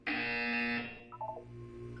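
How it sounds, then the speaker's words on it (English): A loud, steady electronic buzzer from the Portal video game sounds for about three-quarters of a second, then cuts off, followed by a short series of faint rising tones. "You will hear a buzzer."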